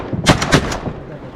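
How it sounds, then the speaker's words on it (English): Two or three loud shotgun blasts in quick succession during a duck hunt in Pennsylvania, sharp and close, fired within about half a second of each other, then a lingering outdoor tail. "Nice. Good shooting, boys."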